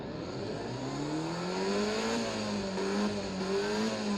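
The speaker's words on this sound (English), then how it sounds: "Let's go rev it." An LMP2 Le Mans race car in the game Driving Empire, its engine revving steadily with a rising and falling tone that holds loud and close throughout.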